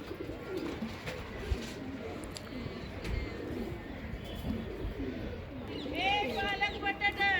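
Pigeons at a loft coo in low, rolling bursts beneath a continuous background murmur of voices, and toward the end a few higher chirping calls rise over the cooing.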